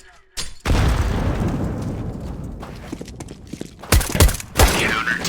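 Game grenade blast and gunfire in a Counter-Strike Source mobile match on Dust2, with a loud burst of sustained fire followed by several sharp, close shots and bangs near the end.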